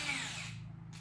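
A power drill whirs at close range, driving screws to fasten an angle-iron support piece against a truss, a steady motor drone that winds down near the end.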